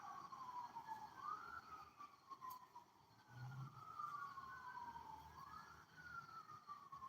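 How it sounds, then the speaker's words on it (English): A fire truck siren wails outside, its rising and falling sweep repeating steadily at moderate distance with a brief low horn blast partway through, no talking over it. "Y'all hear them sirens?"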